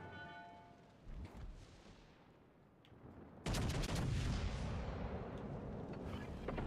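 Secondary guns on a warship in World of Warships Legends open fire, a burst of loud, dense booming shots that starts midway and keeps rolling on, with faint sporadic shots before it.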